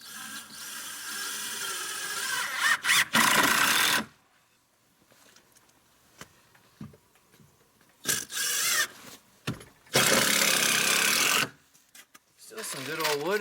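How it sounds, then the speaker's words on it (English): Screw being driven into marine-grade plywood on a trailer: two long, loud buzzing bursts of a driver with broken grinding between them, brief clicks in quieter gaps, and a voice speaking near the end. "Starting to screw."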